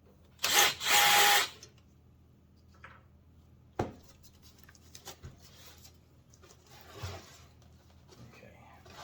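A power drill whirs briefly in two short bursts while removing screws from a window air conditioner case, followed by clunks and handling noises, close and loud at first then quieter.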